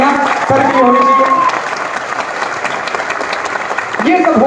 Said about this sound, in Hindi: तालियां सर की होनी चाहिए।